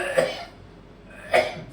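Two sharp, close coughs, spaced about a second apart, with quiet in between.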